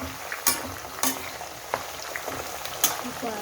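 Oil heats in a pan on a medium flame for homemade hair oil, giving a steady close sizzle and bubbling with a few sharp clinks of a utensil stirring, and no voices.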